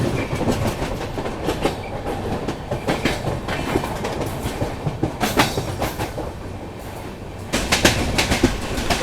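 The 12431 Trivandrum Rajdhani Express runs at speed while overtaking the 10106 Sindhudurg Express. The steady rumble comes with rhythmic clickety-clack wheel beats and bursts of louder rattling, heard loud and close from on board with no talk.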